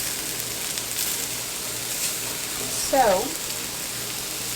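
Onions sizzle steadily in a pan after a splash of water, a soft continuous hiss with a brief louder bubbling burst near the end; a voice speaks briefly.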